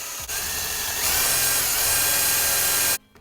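A power drill drives screws into a wooden shelf, a steady whirring whine that rises in pitch partway through and holds before cutting off abruptly near the end, close and loud.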